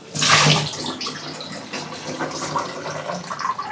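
Eggplants being rinsed under running water for a Bengali mashed eggplant dish, a steady splashing stream that is loudest at the start and then settles into a continuous wash, with no talk.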